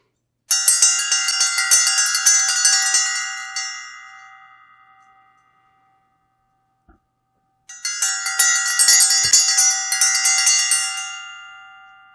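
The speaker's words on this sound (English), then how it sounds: "So we go into the stillness through the sound as the bell rings out its sacred tone." A sacred bell in a meditation session is struck twice, each ring loud and clear at first and then fading slowly, with a stretch of near silence between the two strikes.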